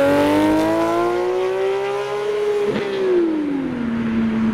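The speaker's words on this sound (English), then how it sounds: "next we have quite a loud 991 GT3" A loud Porsche 991 GT3 pulls away from a car show, its high-pitched engine note climbing steadily as it revs, briefly dipping at a shift, then falling as it moves off, close and dominant throughout.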